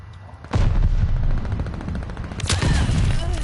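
Gunfire in the video game Call of Duty Vanguard: loud, dense rapid shots running continuously, with a sharp blast near the start and another heavy burst midway.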